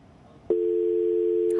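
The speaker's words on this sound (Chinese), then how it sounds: "电话线路也断掉了" Telephone dial tone after a phone line drops: a brief rustle, then a single steady, loud electronic tone that holds unbroken to the end.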